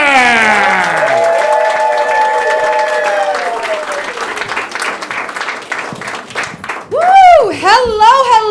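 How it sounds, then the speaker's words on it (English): Comedy-club crowd applauding and cheering as a comedian is called to the stage at a GenCon weekend show, the clapping building under an announcer's voice, then a loud cheer rising near the end. "Give him a huge round of applause."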